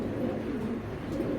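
Racer pigeons of the Super Mili bloodline coo nearby with low, rolling, continuous coos for about a second and a half before cutting off abruptly.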